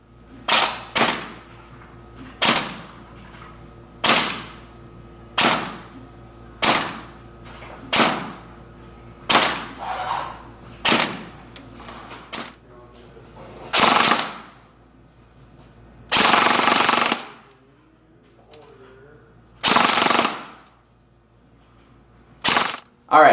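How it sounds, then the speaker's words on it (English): Krytac LMG Enhanced airsoft gun firing at a chrono range, a series of loud, sharp cracks spaced about a second apart, then a few longer bursts and a final shot, with no talk. "Let's take this thing over to the chrono range so you guys can see exactly how big of a punch this thing packs."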